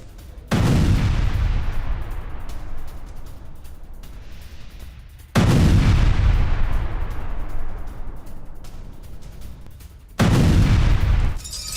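Missile strike on a residential area of Kharkiv: three heavy blasts land a few seconds apart, each a loud sudden boom that rolls into a long rumbling decay, with no voices.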